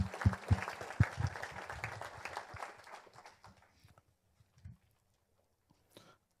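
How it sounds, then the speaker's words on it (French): A church congregation bursts into loud, dense applause with cheers, the clapping thinning out over a few seconds into scattered claps and then near silence. "On acclame le Seigneur pour sa parole, mes amis."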